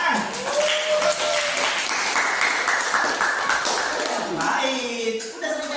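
A classroom audience claps, a steady burst of applause lasting several seconds with some voices over it.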